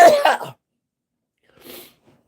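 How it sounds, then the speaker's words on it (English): One short, harsh cough up close, followed by a fainter second cough after a brief pause. "I gotta love when you're coughing and drinking at the same time."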